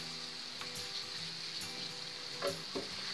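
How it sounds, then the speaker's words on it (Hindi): Spices, including cumin powder and crushed dried fenugreek leaves, roast in a pan on a low flame for aloo gobhi. A soft, steady sizzle runs throughout, with a few light stirring scrapes near the end. "लो फ्लेम पे इसको अच्छे से भून लेंगे मसाले को हमें बहुत ही अच्छे से भूनना है"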